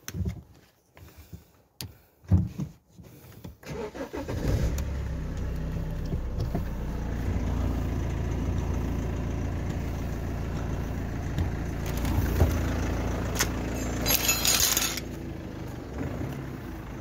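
A BMW 520d starts up and settles into a steady diesel idle close by, a few clanks and knocks beforehand, the engine drone continuing unbroken after the start.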